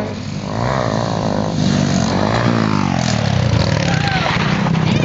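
Motocross motorcycle engine revving at a dirt track event, a loud rising and falling whine close by, with people talking over it.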